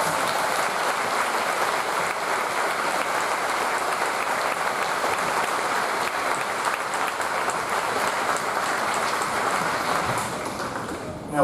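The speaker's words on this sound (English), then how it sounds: "Let's give these folks a round of applause." Sustained audience applause at a ceremony, a dense, steady clatter of many hands clapping continuously before tapering off at the very end.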